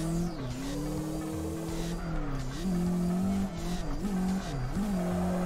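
A Nissan 180 fitted with a turbo mod drifts in CarX Drift Racing: a steady, loud engine drone rises and dips with throttle, and tire squeal runs through it with no pause.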